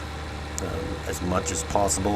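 Tractor pulling a plow across a field in Farming Simulator 19 on the Montana map, giving a steady mid-pitched engine drone heard beneath continuous talk.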